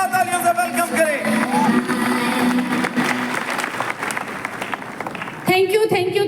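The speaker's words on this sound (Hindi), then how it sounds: "जोरदार तालियों से वेलकम करें" An audience applauds a welcome at a Safe Shop award event, a broad patter of clapping under music and a voice, lasting through most of the moment.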